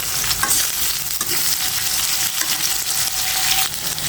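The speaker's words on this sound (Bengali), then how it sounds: "আলুর সাথে পেঁয়াজটা মরিচটা সুন্দর করে কষিয়ে নেব" Potatoes, onion and green chili fry in oil for a pangas fish curry, a loud, dense sizzle running throughout with scraping stirs against the pan, heard alone without speech.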